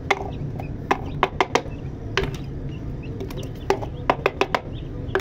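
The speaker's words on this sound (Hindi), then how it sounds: "अब हम लोगों ने अपने चूज़ों को बाहर निकाल लेना है।" Chicks and hens leaving their coop give off a scatter of short, sharp clucks and chirps spread over several seconds. Light knocks sound beneath them over a low rumble of background noise.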